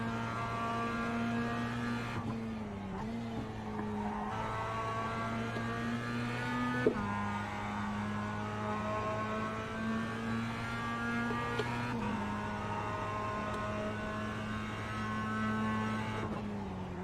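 A Mazda MX5 Cup race car in iRacing holds a steady engine drone with clear harmonics, dipping and resettling in pitch at several gear shifts, with no talk over it.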